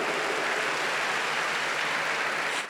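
A church congregation breaks into steady, dense applause at a women's month service, a continuous wash of many hands clapping at close range with no talk over it, cut off abruptly at the end.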